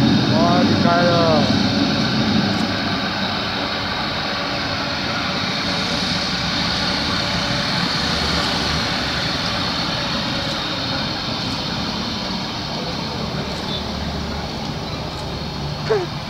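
An ANA Boeing 787-9 jet takes off at Songshan Airport, a sustained loud engine roar that holds for many seconds, heard from a distance with crowd voices mixed in.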